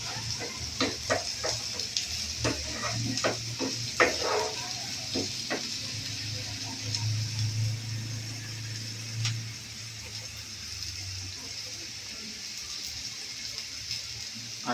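Onion browns in a pan for paneer bhurji, a soft, low sizzle heard close with scattered clicks and stirring scrapes early on, then settling into a quieter steady fry.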